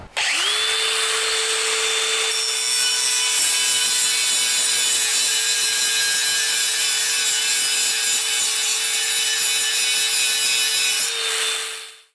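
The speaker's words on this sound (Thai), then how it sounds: "เดี๋ยวไปลองเจียกันดูครับ รอยเชื่อมเหมือนเดิมนะครับ" A cordless Dewalt DCG409 4-inch angle grinder with a hard grinding disc works a weld. It spins up into a loud, steady, close high whine that holds for about ten seconds, then winds down at the end.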